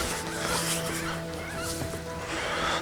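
Wood ducks call in a rural hunting setting, a cluster of squealing, honking waterfowl cries over outdoor background noise, fairly close and overlapping for a few seconds.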